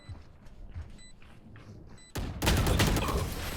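A turret opens fire in a video game: after a stretch of quieter ambient game sounds, a sudden loud sustained burst of rapid gunfire fills the last second and a half.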